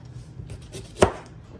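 A knife chops through onion and ginger on a cutting board, quiet soft cuts followed by one sharp, louder chop near the end, close and with no speech.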